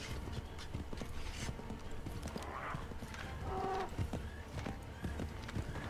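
Horse hooves clip-clop steadily in Assassin's Creed III, with a brief whinny and faint mechanical clinks mixed in, close and continuous with no speech over it.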